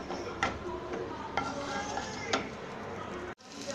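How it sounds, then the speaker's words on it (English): Garlic, green chilies and cumin seeds sizzling in hot oil in a pan, a steady soft crackle with three sharp stirring taps at regular intervals, then a brief cut-out near the end. "Now you can see oil is heated and now I am adding cumin seed in it, some green chilies"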